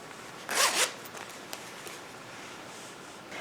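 A zipper on a crocheted wallet zips open in one quick burst of rasping teeth near the start, close and fairly loud, followed by quiet handling.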